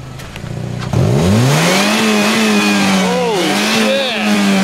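A Saturn car's engine revs hard as the brakes lock to light up the tires, a loud sustained roar that rises and holds steady from about the first second onward.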